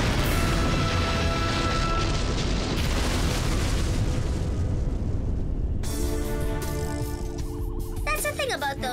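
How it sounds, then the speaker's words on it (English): A cartoon spaceship implodes in a loud, dense roar of explosion mixed with grinding, ratcheting mechanical noise that stays near and constant. The sound then shifts to tonal, whooshing sci-fi effects. "the ship... What about the ship? It's going to implode in 5 seconds."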